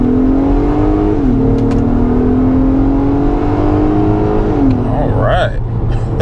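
A 2022 Acura MDX A-Spec drives in sport mode, its engine humming steadily from inside the cabin with a short rise in pitch near the end, while someone talks over it.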